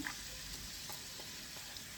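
Steady, quiet sizzle of food frying in a pan, a continuous crackling hiss with faint pops throughout.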